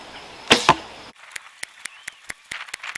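Arrows from a bow striking a target during a long practice session, heard as a string of sharp, brief thwacks at uneven intervals, preceded by two louder impacts close by.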